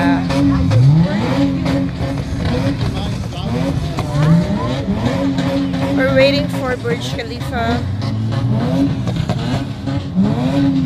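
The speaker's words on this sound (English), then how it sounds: "that's their way of saying Happy New Year, the voices of the ATV" ATVs rev their engines at a desert sandpit on New Year's Eve, repeated rising and falling engine whines from several machines near and far, under close, continuous conversation.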